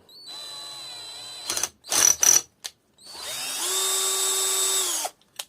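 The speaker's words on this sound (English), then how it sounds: "I'm only doing it with the drill" A power drill whines close by while removing swirl flaps from the inlet manifold of a Vauxhall/Opel 1.9 CDTI engine: a short run, a few quick bursts, then a longer spin that winds down.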